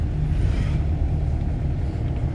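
A car packed with ten people drives along a mountain road in Sikkim, heard from inside the cabin as a steady, loud low rumble that drones on without a break.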